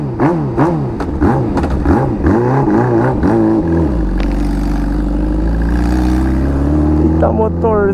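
A Honda CG motorcycle fitted with a Hornet engine and 2-into-1 exhaust revs in repeated bursts, then settles into a steady, loud drone as it accelerates on a highway, with wind rushing past.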